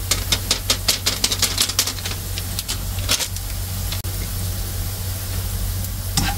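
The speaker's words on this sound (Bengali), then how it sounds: "পেঁয়াজ গুলো এই যে একটু লাল লাল হয়ে গেছে সুন্দর ভাজা হয়েছে" Onions frying in a pan sizzle steadily with a rapid run of sharp crackles and pops early on, thinning to a continuous hiss with only occasional spits toward the end; close and fairly loud, with no talking.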